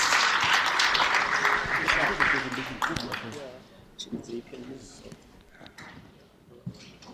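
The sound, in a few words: audience applause welcoming a speaker to the stage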